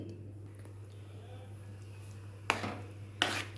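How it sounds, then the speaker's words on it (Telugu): Green chillies chopped into small pieces with a knife on a board for a gongura curry, two distinct close chopping knocks near the end over a steady low kitchen hum. "పచ్చిమిర్చి చిన్న ముక్కలుగా కోసి"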